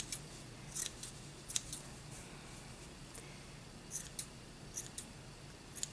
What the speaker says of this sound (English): Actually, I'm gonna use the bigger scissors for this.